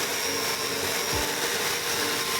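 An angle grinder fitted with a brass wire cup brush runs against heavily rusted wheel rims, a loud, steady, continuous whirring hiss close by, with a brief low thump midway and no talking.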